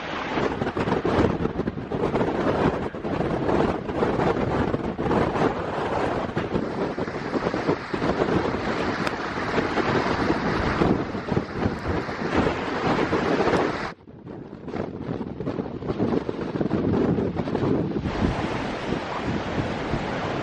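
Strong storm wind on the Cornwall coast roars and buffets the microphone alongside crashing surf, loud and continuous, dropping out briefly before the gusts return.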